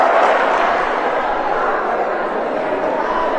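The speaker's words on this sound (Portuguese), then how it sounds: "Aplausos!" Steady, dense applause and cheering from the crowd at a jiu-jitsu championship award ceremony in Bahia, loud and continuous throughout with a roar of mixed voices.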